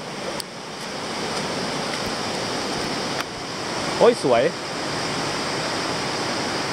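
Water rushes steadily from a waterfall and river beside the road at Nyuto Onsen, a broad, continuous roar filling the scene, with a man's brief exclamations breaking through near the end.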